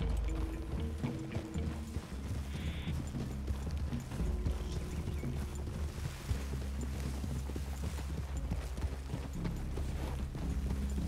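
Horse hooves clip-clop in a steady, muffled rhythm amid a dense mechanical background in the video game Red Dead Redemption 2, with no voices heard.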